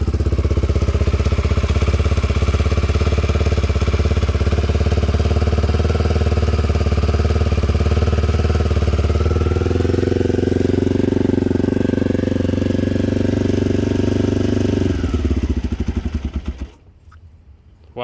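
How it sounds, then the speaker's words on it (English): A Honda XL250R motorcycle's single-cylinder engine idles steadily after a cold start, close and loud with an even, rapid thumping that shifts slightly in pitch before cutting off near the end. "Engine's nice and quiet. Normally they're a little bit noisy."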